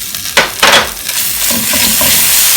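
Ginger paste goes into hot oil with toasted cumin in a pan, a loud steady sizzle after a couple of sharp stirring scrapes, with frying continuing evenly and no talk.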